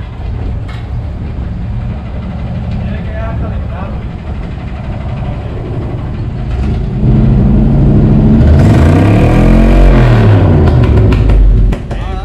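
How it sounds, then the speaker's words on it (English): Truck with a 305 engine revving up loudly near the microphone, rising and falling in pitch over a steady idle, with people talking in the background. "Give it a rev."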